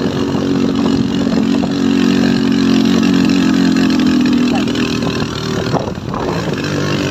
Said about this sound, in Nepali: यो हाम्रो क्रस फायर जतिको कराउँछ बाइक चाहिँ होइन एकदम बबाल सुनिन्छ